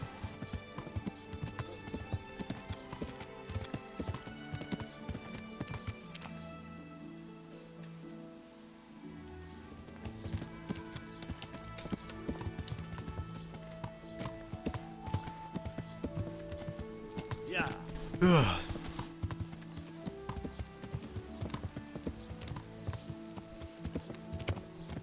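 Horse hooves clip-clop steadily in the medieval game Kingdom Come: Deliverance, layered with rain-like ambience and other tonal in-game sounds, with one brief sharp swelling sound near the end.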